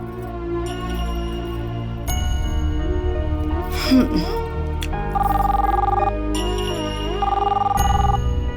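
A phone rings in repeated electronic tone bursts over a musical background, with a brief clinking sound in the middle.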